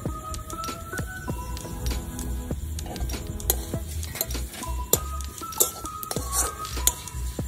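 Sesame seeds and chili flakes fry in a pan while a utensil stirs them, giving soft scraping and frequent metallic clinks over a faint sizzle, close and fairly quiet.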